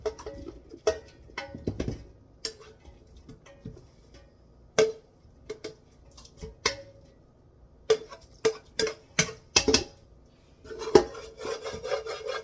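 A big mixing bowl handled on a kitchen counter while preparing a chicken casserole, with irregular close knocks, scrapes and taps scattered through, some clustered in quick runs, with no talking.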